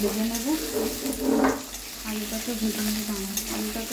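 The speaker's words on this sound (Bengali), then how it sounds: "গ্যাসেরটা জোর দিয়ে আলুটাকে ভেজে নেব।" Potatoes fry over a high gas flame, giving a constant dense sizzle with faint tonal hums and occasional stirring scrapes, close-up and steady throughout.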